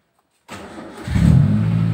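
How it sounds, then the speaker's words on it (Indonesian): A car engine is started with the key in a parked car: after a brief silence the starter turns over, then the engine catches and settles into a steady, fairly loud idle. There is no talking. "kunci kita nyalakan dulu mesinnya."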